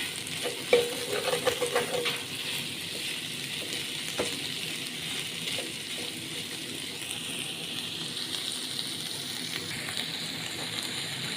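Chicken tikka boti pieces frying in oil, a dense steady hiss and sizzle heard up close, with a few scraping stir strokes near the start and a constant bubbling texture throughout.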